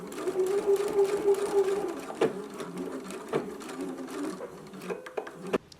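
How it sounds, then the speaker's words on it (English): Sewing machine running a straight seam with back stitching, a soft, steady mechanical whir with a few sharp clicks and brief stops as the stitching direction changes. "So we'll go to the sewing machine. We will line up our raw edge with our 5/8 of an inch seam allowance line, and we will stitch right across here."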